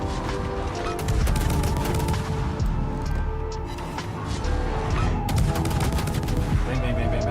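Naval video game warship guns pound an enemy superstructure in a dense, continuous barrage, loud and close, with overlapping booms and rattling bursts and no pauses.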